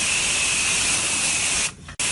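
High-pressure water sprays from a garden hose, rinsing debris off a Trex composite deck: a loud, steady, close hiss that cuts out briefly near the end, then resumes.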